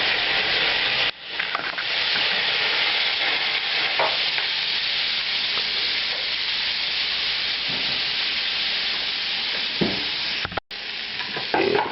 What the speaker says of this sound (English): Now we add the rum and Flambéed.